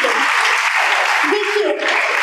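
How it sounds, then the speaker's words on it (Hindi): Students clap together in a girls' high school hall during a motivational talk, a dense, even burst of applause with a brief voice surfacing partway through. "जोरदार तालियां बजाइए आप अपने सभी को।"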